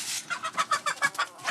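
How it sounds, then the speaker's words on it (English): Short-legged chickens on an elderly man's village farm in Tanzania cluck in a steady run of about nine quick, close calls, with no talk over them. "But his real passion is raising short-legged chickens, as he calls them."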